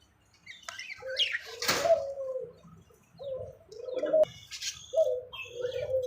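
Pure white pigeons cooing nearby in a breeder's loft, several soft, low, rolling coos repeating in a steady rhythm alongside faint chirps, with no talk.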